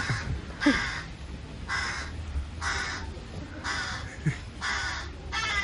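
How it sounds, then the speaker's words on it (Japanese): Crows caw repeatedly outdoors in a steady series of harsh calls, moderately near, with faint background noise and no talking. "カラスうるせえな"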